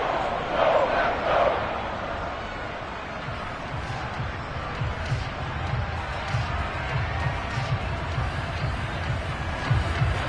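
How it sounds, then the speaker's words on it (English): Football stadium crowd at a division playoff game swelling and rumbling ahead of a big third down, a broad continuous roar with a brief louder burst early on, under a commentator's voice. "The crowd getting into it as we come up on a big 3rd down"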